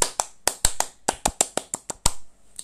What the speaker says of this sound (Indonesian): tapi aku tahu tepuk pramuka.